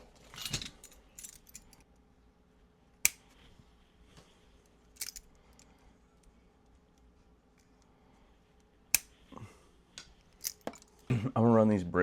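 Sharp snips of cutters through wire during a custom boombox build ring out close and distinct, spaced irregularly among light jangling and handling clatter, with a quiet room behind.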